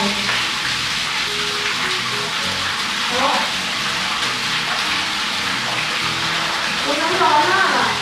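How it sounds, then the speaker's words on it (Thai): Tap water runs steadily as cold water is mixed into a hot bath at a Sun Moon Lake stay in Taiwan, a continuous close gush with someone talking over it. "แล้วเราก็ต้องเปิดน้ำเย็นผสมไปด้วยนะ"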